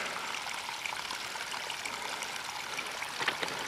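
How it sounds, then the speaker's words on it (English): A steady stream of water runs down coastal cliffs onto a pebble beach at Watchet, a constant soft rushing trickle with faint splashes, heard alone. "More evidence of water flowing down the cliffs here."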